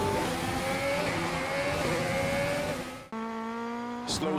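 F1 race cars screaming past in the F1 2020 racing game, high engine whine rising steadily, then a brief cut to another car's tone with a short whoosh at the end, loud and close.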